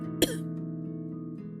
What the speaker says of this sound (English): I do have a chronic cough.